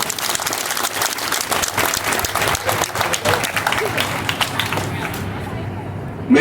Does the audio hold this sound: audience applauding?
yes